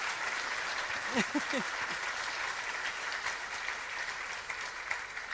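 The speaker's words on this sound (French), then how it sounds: "si vous pouvez l'applaudir pour moi, pour la remercier" Conference audience at a day-one keynote applauds steadily throughout, a dense continuous clapping while a voice briefly speaks over it near the start.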